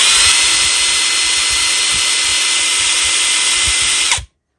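Close, loud cordless screwdriver running at steady speed on a bench power supply near 19 volts, a sustained high whine that cuts off abruptly near the end, with no talking.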